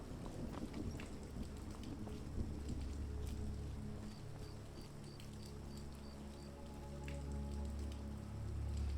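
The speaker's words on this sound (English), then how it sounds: "You can get heavier rain than this." Rainfall in Skyrim Special Edition with the Vivid Weather mod on Xbox, a steady wash of drops on surfaces with a low rumbling undertone, moderately heavy and continuous, swelling slightly toward the end.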